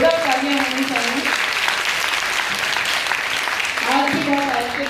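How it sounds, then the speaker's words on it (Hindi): Loud, sustained applause from an audience at an award and discussion ceremony carries on throughout, with a speaker's amplified voice heard over it at the start and the end. "जोरदार तालियां होनी चाहिए।"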